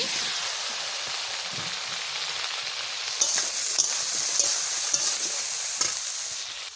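Cumin seeds and spices hit hot oil in a pan, setting off a steady, close sizzle and fry hiss, with occasional spatula scrapes and light clicks against the pan.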